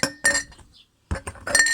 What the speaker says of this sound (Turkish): Cam atıklarımızı biriktiriyorum.